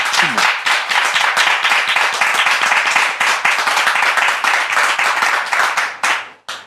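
An audience applauds at a French-speaking church gathering, with dense, steady clapping from many hands that holds through the moment and then tapers off at the end.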